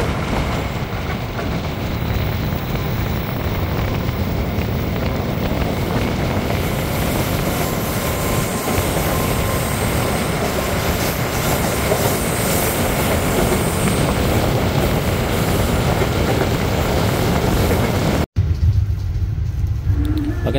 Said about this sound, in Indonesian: Untuk kereta api yang melintas kurang lebih itu sepertinya kereta api Ranggajati ya.